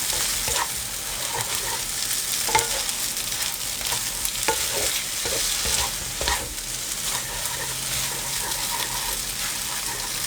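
Glass noodles with egg and shrimp stir-fried over high heat in a pan, a steady loud sizzle with repeated scraping and tossing strokes of the spatula throughout, no talking.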